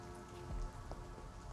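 Rain falls steadily in the video game Vampyr, a soft, even patter on surfaces with a brief low thump partway through, quiet and alone without voices.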